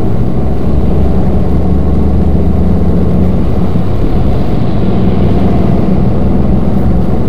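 A Citroen Cactus engine runs in a steady, loud, low rumble heard from inside the moving car, a constant droning hum with no distinct changes and no voices.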